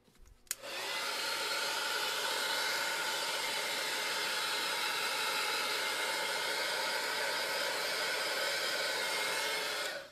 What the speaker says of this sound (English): Plug in my dryer there.